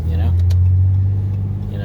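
A 2014 Ram 3500 with a Cummins diesel engine and 500k miles runs smoothly, giving a steady, even low drone with no roughness. Faint talk sits under it.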